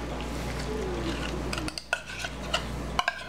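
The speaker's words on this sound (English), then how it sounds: "scraping every scrap of tuna fish out of there" A utensil scrapes tuna out of an opened, sharp-lidded can, heard close as a few short metallic scrapes and clinks over a steady low hum.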